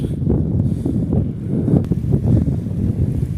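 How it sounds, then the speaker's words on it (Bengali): Strong wind buffets the microphone in a steady low roar, gusting unevenly with no voices present. "প্রচণ্ড বাতাস এখানে"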